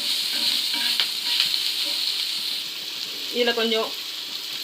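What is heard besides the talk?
sautéing chopped onions on a dosa pan for omelet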